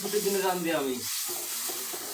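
Food fries and sizzles in a pan with a steady hiss as it is stirred, while voices talk over the first second before the frying carries on alone.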